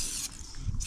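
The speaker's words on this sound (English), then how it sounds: "Spray it on, it all foams up." Foaming cleaner sprayed inside a work van being turned into a campervan, a close, steady hiss that cuts off briefly and then resumes with a soft low rumble beneath.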